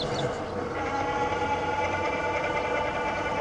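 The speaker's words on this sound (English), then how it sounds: "the motor whine is kind of hiding it all" An electric bike's motor whines steadily while riding, a close, continuous tonal hum mixed with road and wind rumble, with no talking.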